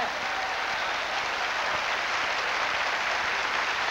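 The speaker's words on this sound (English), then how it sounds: "give the Lord a hand clap" Steady, dense applause from a large church congregation, a continuous wash of many hands clapping at even loudness throughout.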